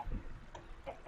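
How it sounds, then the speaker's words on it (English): Chickens in Minecraft, a few short soft clucks spaced out over a quiet moment, with no voices present. "come here little chickens"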